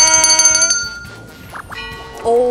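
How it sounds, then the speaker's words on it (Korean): A bright, ringing bell chime rings out in a rapid cluster of tones, then fades into a few softer tinkling notes before another tone swells. "이번에도 골든벨이 울렸습니다."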